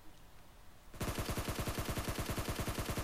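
Rapid automatic gunfire from a player shooting while prone at close range in PUBG Mobile starts abruptly after a quiet second and continues as a steady, loud, evenly spaced burst of shots.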